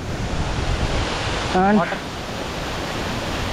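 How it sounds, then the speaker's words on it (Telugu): Didupe waterfall sends up a steady broadband rush of falling water, loud and continuous throughout, with a brief spoken word breaking in near the middle. "దుడుపి వాటర్ ఫాల్స్."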